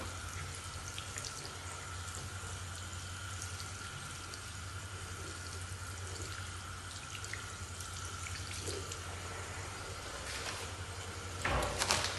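Tap water runs steadily into a sink while hands and wrists are rinsed during clinical handwashing. The close, continuous splashing has small shifts in tone and a brief louder splash at the end.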